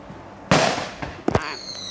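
Loud fireworks going off at night around 9:40 p.m., two sharp booming bursts about a second apart with crackling tails, the first blast the strongest, followed by a faint high whistle, nearby and without talk.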